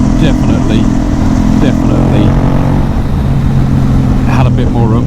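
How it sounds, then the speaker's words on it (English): A KTM Duke 790 motorcycle with a ceramic-coated exhaust drones steadily while riding, a low continuous engine hum with wind noise, as someone talks over it. "The exhaust sounds a bit softer like this."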